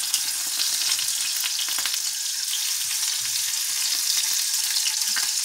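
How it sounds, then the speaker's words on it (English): Five-spice shrimp fry in hot oil in a pan, with a steady, bright sizzle that holds close and loud throughout, broken by a few faint crackles and no talking. "So, our oil is heated up. We got our 5-spice shrimp right here. I'm going to go ahead and place them right in the pan."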